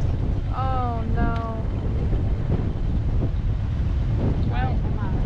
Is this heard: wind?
yes